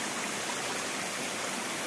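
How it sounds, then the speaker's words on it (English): A small freshwater waterfall spills into a stream on a Nagaland riverside, giving a constant, even rushing hiss of water close by, with no voices. "Waterfall, cute waterfall. Fresh water."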